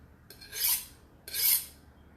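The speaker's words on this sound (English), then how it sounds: "Let's always sharpen our knife. Okay, so I'm using a honing blade." A knife being sharpened on a honing blade: two distinct scraping strokes, each a bright rising-and-fading rasp, close and clear with no talking.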